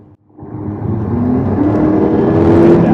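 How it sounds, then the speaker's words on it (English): A 2015 Mercedes GLA45 AMG engine revs up hard from idle, its exhaust baffles opening as the exhaust rises into a loud, throaty roar that builds and holds. "we get some cool little exhaust notes"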